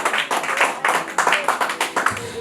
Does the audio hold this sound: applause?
yes